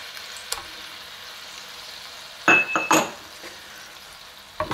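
Marmalade being stirred into a reduced sauce in a hot pan with the heat turned off, giving a soft steady sizzle with a few sharp clinks and scrapes of a utensil against the pan.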